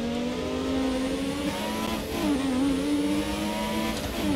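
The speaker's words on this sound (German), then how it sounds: "Schönes Turbosäuseln" A historic Formula 1 car in F1 2017 hums along with a steady turbo whistle riding over its engine note, the pitch dipping briefly midway before climbing again, loud and continuous with no talk.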